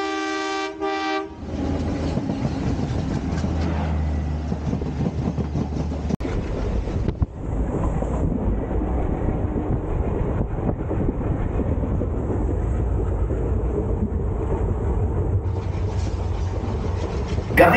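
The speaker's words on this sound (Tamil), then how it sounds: "ட்ரெயின் கிராஸ் ஆகிடுவாங்க, உங்களுக்கு காட்டுறோம்." A passenger train on a Coimbatore to Goa journey rumbles past in a steady, loud roar with rail clatter, opening with a short horn blast before the continuous rush of the cars.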